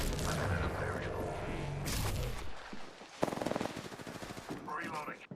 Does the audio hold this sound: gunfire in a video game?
yes